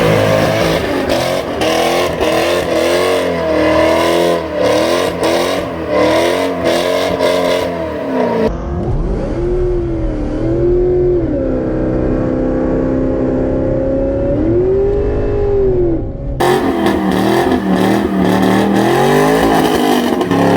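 A car does repeated burnouts with loud, high-revving engine bursts that rise and fall in pitch, a steady harsh roar close by throughout, with no talking.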